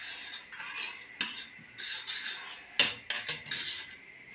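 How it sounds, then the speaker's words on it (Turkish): Sesame seeds for cheese poğaça being toasted in a pan, giving close, irregular scraping and clinking stirring sounds with a few sharper knocks of the utensil against the pan. "poğaçalarımızın susamlarını kavuruyorum şimdi"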